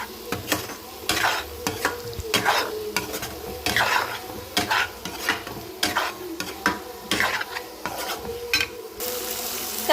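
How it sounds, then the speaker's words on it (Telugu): Egg curry stirred in a pan, a spoon scraping and clanking against the metal in an irregular rhythm over a low simmering sizzle, close and distinct, with no one speaking. "ఎగ్స్ వేసేసుకొని ఒకసారిగా కలిపి వేసేసుకుంటాం"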